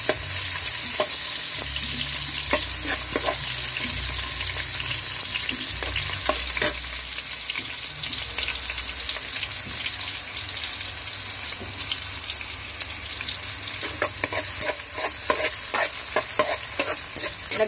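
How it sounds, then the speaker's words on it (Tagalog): Onions sizzle in hot oil in a pan for a Filipino sarciadong tilapia, a loud steady frying hiss broken by repeated stirring scrapes and clinks of the utensil against the pan. "Ngayon, magigisa na tayo ng sibuyas."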